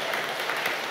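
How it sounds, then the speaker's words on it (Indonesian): Applause during Mass in St. Luke's Chapel at the Carmelite hermitage in Tampus, a steady dense clapping from the congregation that fills the whole short moment without any speech. "Kita tepuk tangan ini"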